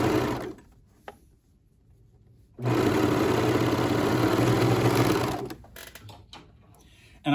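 A sewing machine stitches fabric for kimono-style sleepwear in one steady burst lasting about three seconds, with quiet pauses and faint handling sounds before and after.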